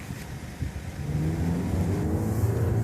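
A 2015 Dodge Dart accelerating on the road, engine note climbing steadily with a whiny, droning tone heard from inside the cabin, continuous and moderately loud with no talking.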